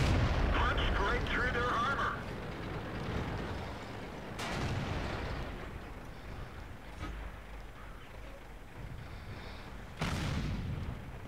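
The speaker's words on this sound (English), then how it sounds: "Our artillery just started to help us after, though." Artillery fire in World of Tanks, heavy booming shots with rumbling decay, one near the start and others around four and ten seconds in, under a constant noisy battle background.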